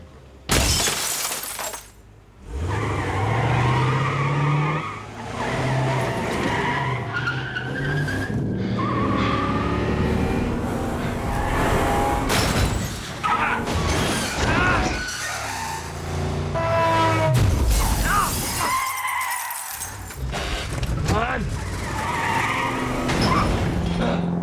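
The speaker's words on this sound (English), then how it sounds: "Actually, it's Car chase." Movie car chase, loud and dense: engines roar continuously under squealing tire skids, crashes and shattering glass, with one brief lull before the racing and impacts resume.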